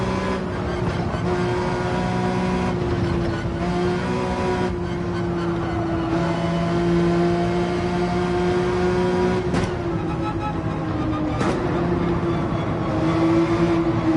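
A GT3 race car in Gran Turismo 7 at Trial Mountain drones steadily on its exhaust at high, sustained revs, with small pitch dips at gear changes and no talk over it.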